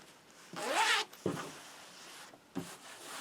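A zipper is pulled in a few quick, raspy strokes, one long zip followed by two shorter ones, close up and with no talking.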